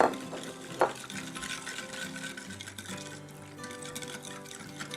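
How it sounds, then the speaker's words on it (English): A spoon stirs spices, barbecue sauce and a dry rub into a pot of Irish venison stew, with a couple of sharp clinks against the pot at the start, then steady soft scraping and bubbling. "mix it up."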